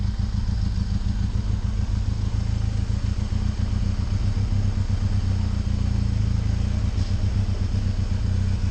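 Benelli TRK 502 X motorcycle idling and creeping slowly while being parked, a steady low engine rumble with light mechanical clatter, close and continuous with no talking.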